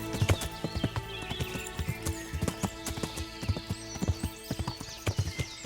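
Horse hooves in the video game Kingdom Come: Deliverance, a steady rhythmic clip-clop of a horse riding through forest, loud and close, with occasional snorts.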